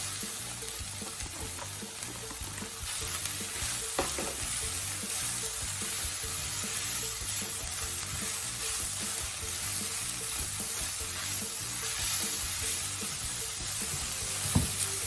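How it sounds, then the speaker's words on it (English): Steady, busy sizzling of carrots and baby corn stir-frying in a hot pan, with occasional scrapes and knocks of stirring throughout. "Just continue to stir fry this for a further 2 minutes"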